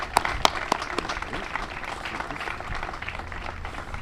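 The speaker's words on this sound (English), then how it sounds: "give each other a round of applause" Applause from an audience at a city centennial time capsule presentation, a few sharp nearby claps standing out over a thinner, scattered patter that continues steadily.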